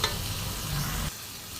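A spiced masala sizzles steadily in a hot pan as water goes in. The frying hiss is loud and close, then drops abruptly and settles to a quieter simmer.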